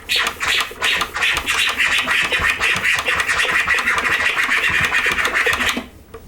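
Rapid DJ flare scratches on a vinyl record cut in and out by a crossfader, a continuous run of sharp, choppy scratching bursts at close range for about six seconds, then stopping abruptly.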